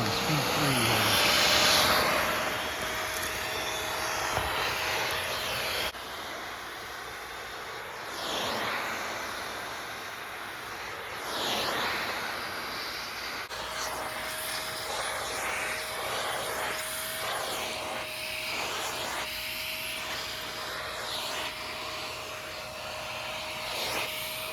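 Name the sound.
FruSun dog grooming vacuum brush running on speed 3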